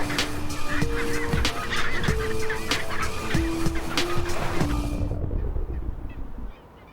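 Skuas scavenging in Antarctica give a busy chorus of harsh, honking calls, loud and close, repeating without a break before fading to a quieter background.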